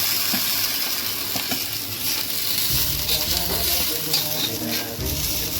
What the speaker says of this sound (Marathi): हे सगळं भाजून घ्यायचं व्यवस्थित, मंद आचेवरती